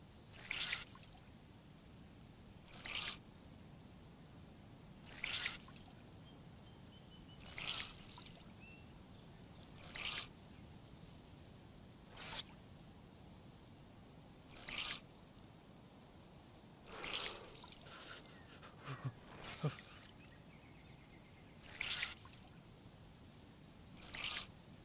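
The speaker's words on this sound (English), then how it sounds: "better go ahead and wring out my clothing" Wet clothing being wrung out by hand, water splashing down in a series of separate bursts and dribbles roughly every two to three seconds, close and fairly quiet against a faint outdoor background.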